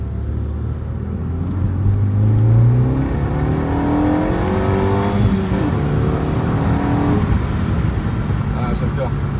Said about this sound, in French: Déflagration à l'échappement, il y a une demi-ligne aussi.